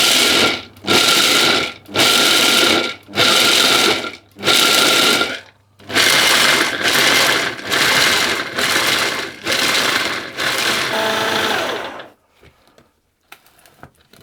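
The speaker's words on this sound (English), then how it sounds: "So I'll pulse them until I get to the consistency that I want." Pistachios pulsed to a fine grind in an Ankarsrum mixer's blender attachment: loud, repeated whirring bursts of about a second each with short gaps, then a longer run before stopping abruptly into near silence.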